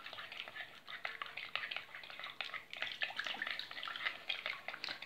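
Mineral water poured into a Lenten batter for Moldavian mucenici, giving a close, steady wet splashing and sloshing that runs unbroken for about five seconds with small irregular bursts and no talk.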